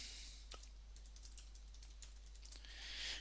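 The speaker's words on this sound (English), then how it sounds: "we will then type in their email address" Keystrokes on a computer keyboard while entering an email address on a user maintenance screen, a quiet, steady run of light clicks over a constant low hum, no talking.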